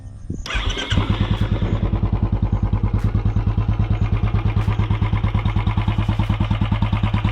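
A Royal Enfield Classic 350 BS6 motorcycle engine starts and settles into a steady, loud idle with a rapid rhythmic ticking engine noise running throughout.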